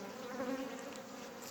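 Honeybees hum in a dense, continuous drone, close and steady, the pitch wavering slightly as they swarm while a queen cell is cleaned.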